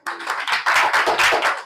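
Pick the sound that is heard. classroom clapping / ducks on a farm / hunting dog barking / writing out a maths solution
classroom clapping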